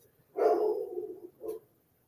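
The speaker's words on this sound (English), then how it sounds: "I know y'all hear my dog." A female dog barks indoors behind a door, one long drawn-out bark followed by a shorter second bark, moderately loud and slightly muffled.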